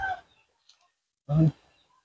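A native mother hen on a farm gives two short clucks, a brief one at the start and a louder, fuller one a moment later, close by in a quiet setting.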